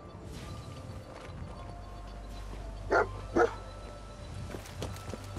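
Dog barking in the video game Fallout 4, two short sharp barks close together at mid-distance over a low ambient game background.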